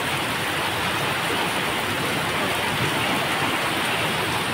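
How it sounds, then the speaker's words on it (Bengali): Heavy rain pours down continuously in a dense, even roar, loud and close with no pauses or voices. "আধা ঘন্টার উপরে বৃষ্টি হচ্ছে।"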